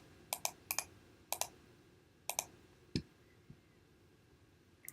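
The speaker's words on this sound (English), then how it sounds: "And just type them in here." Numbers are typed on a computer keyboard in a quiet room: a handful of crisp, separate key taps in small irregular clusters, near and soft, with no talking.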